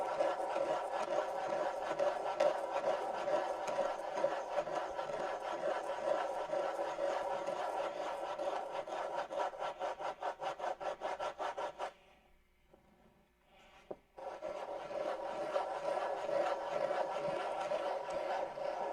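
Wood being ground with a steady, close, abrasive rasping drone that runs continuously, breaks off briefly for a moment of near-quiet, then starts up again just as loud.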